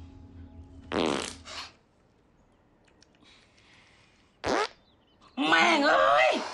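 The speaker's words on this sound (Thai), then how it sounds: "โดนตดขนาดนี้อาบน้ำแม่งเลยดีกว่า" Comic fart sound effects in a Thai horror comedy film set in a haunted college: a loud blast near one second, another short burst around four and a half seconds, and a longer blurting burst at the end, with quieter sounds between them.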